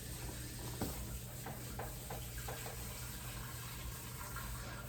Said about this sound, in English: I'm going to rinse them with cold water